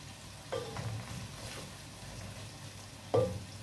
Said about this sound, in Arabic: احنا بقى هنا هنستنى البصل اول ما يبدا يتحمر كده معانا.